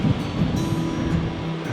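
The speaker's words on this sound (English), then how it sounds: "the waves crashing against the rocks down there" Ocean waves crashing against rocks at the base of sea cliffs, heard from a lookout roughly 150 to 200 metres above, as a steady low rumbling surf with wind noise, no voices.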